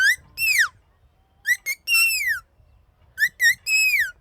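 A whistle made from an onion leaf imitates bird calls, sounding bright, clear, downward-sliding chirps in three short bursts of two to three notes each, close and loud with quiet gaps between.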